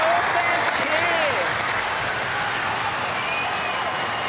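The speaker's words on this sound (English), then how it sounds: "Listen to the North fans cheer." North Melbourne fans cheering at an AFLW football match against Adelaide, a loud continuous stadium crowd roar with applause, with a commentator's voice faintly audible over the din.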